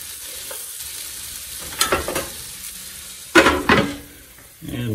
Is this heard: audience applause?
no